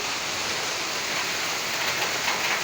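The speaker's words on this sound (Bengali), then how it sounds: "বাইরে খুব জোরে জোরে বৃষ্টি হচ্ছে দেখো" Heavy rain falls outside a kitchen with a tiled roof, making a dense, constant hiss with no pauses or voices.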